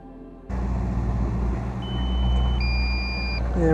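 A low-battery warning from a drone or remote controller beeps in steady electronic tones over continuous outdoor engine rumble at a canal breach drilling site.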